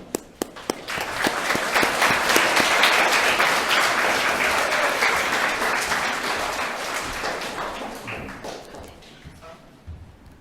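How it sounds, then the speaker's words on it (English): An audience applauds at a school presentation day as Jupiter house vice captains come up on stage, the clapping swelling into a dense, sustained wash and then tapering gradually, with a few sharp claps standing out near the start. "Give them a clap."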